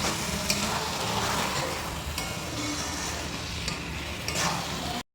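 Khichuri ingredients with turmeric are stirred and sautéed in a pan, a continuous hissing sizzle with scraping strokes of a spoon, close and steady with no voices, ending abruptly.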